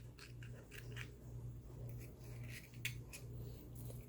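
Scissors snip through ball python eggshells in a few quick, faint cuts over a steady low hum, with a slightly sharper snip near the end and no voices.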